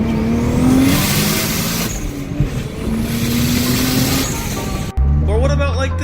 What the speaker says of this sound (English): Do you want your IS300 to sound like this?